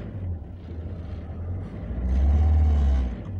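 Opel Vivaro van engine idling, then rising to a louder, deeper revving hum as throttle is applied, close and steady for a few seconds.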